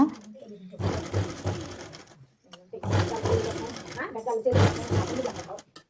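Sewing machine stitching a model blouse, three bursts of fast rattling stitching separated by short pauses, close and fairly loud, with someone talking over it.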